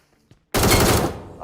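Gunfire in the mobile battle royale game BGMI comes as a sudden loud, close burst of rapid shots that fades over about a second after a brief quiet lead-in.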